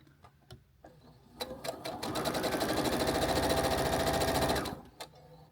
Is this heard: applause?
no